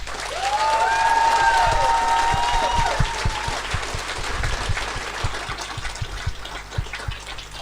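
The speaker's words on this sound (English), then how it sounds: "give one more round of applause for all of our nominees and winners tonight" Audience at a fantasy awards ceremony clapping for nominees and winners, a broad wash of applause that swells and then thins into scattered claps, with faint whistling tones early on.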